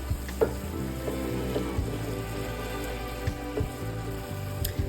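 Meat fries in a pan with ginger, a steady crackling sizzle with scattered pops and a few stirring knocks, close and moderately loud, with no speech.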